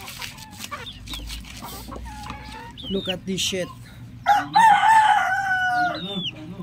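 A hen of uncertain sex clucks and attempts a crow on a small backyard farm, with scattered close clucks leading into a loud drawn-out crowing call, someone speaking in between.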